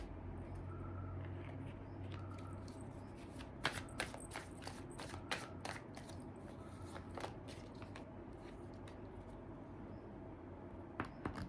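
Tarot cards are shuffled and drawn from the deck, soft papery rustling under a faint steady background hiss, with clusters of sharper card snaps and flicks, close and quiet, without talk.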